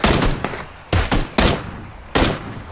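Gunfire in PUBG cracks out in several loud, close bursts of rapid shots separated by short pauses, with no voices.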